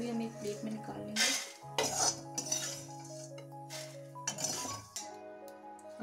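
Fried poha chivda snack scooped from a wok onto a plate, a run of close metallic scrapes and clinks of a spoon against the pan and plate in several short bursts, with no talk.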